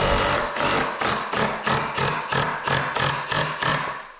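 Nine evenly spaced taps knock on wood at a steady rhythm, each sharp and close, with no talking.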